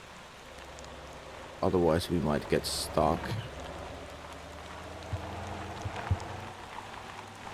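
Rain falls in the Motor Town driving game as a soft, steady hiss that runs throughout, with a person speaking briefly over it near the middle.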